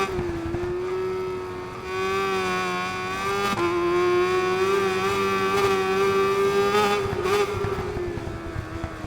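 A four-cylinder engine on a naked motorcycle revs hard during a ride, holding a loud, smooth high-pitched drone that climbs and dips with the throttle, close and alone.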